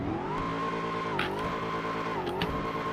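A tuned motorbike engine and exhaust in GTA 5 drones steadily at a constant pitch with a couple of brief dips, idling and revving slightly.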